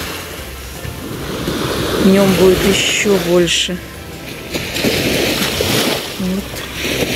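Sea surf washing onto a crowded beach in Haifa, Israel on a morning, a steady wash of waves with wind noise under someone talking throughout.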